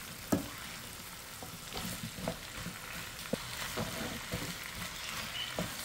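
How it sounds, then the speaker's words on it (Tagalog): Vegetables for pakbet with bagnet being stirred in a pan, a soft steady sizzle broken by scattered scraping and clinking strokes, close and moderately quiet with no talking. "Halu-haluin ko lang."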